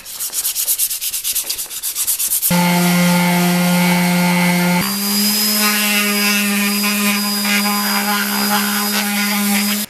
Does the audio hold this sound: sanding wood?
yes